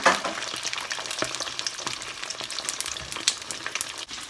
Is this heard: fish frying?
yes